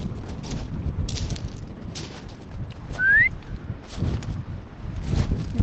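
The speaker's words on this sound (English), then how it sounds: "You have to get a good whistle, don't you, with your dogs?" A person whistles once, a short rising tone calling dogs on a breezy beach, heard over steady wind noise and the low rumble of surf.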